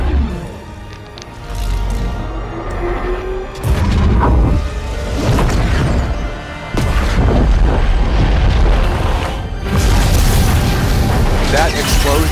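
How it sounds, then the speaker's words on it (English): Video game explosions boom loudly in several heavy bursts with mechanical clatter between them, and a voice talks partly over the blasts. "That explosion."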